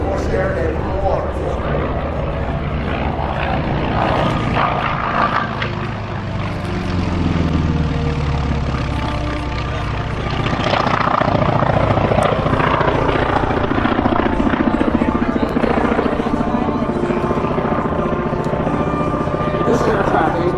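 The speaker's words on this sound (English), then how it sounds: "This aircraft, a 1943 version of the FMC Wildcat." A 1943 FM Wildcat fighter's piston engine at an air show, a loud continuous droning roar lasting the whole stretch, with voices talking over it.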